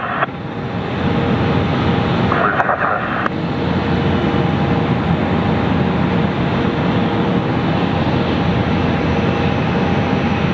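A heavy jet aircraft at Ontario International Airport at night gives a loud, steady engine roar that stays close and unbroken throughout, with no voices.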